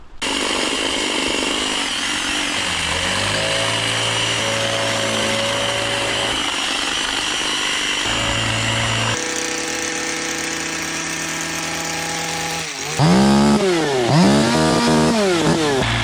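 Power hedge trimmer cutting a conifer hedge in the rain, a loud continuous motor whine that shifts pitch as it bites and revs, close by and steady throughout with no voices.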